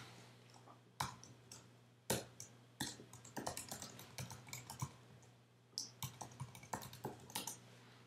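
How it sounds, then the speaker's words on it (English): Keys tapped on a computer keyboard while a username and password are entered, a quiet sequence of crisp clicks in short irregular runs, close and alone. "type in your username and password"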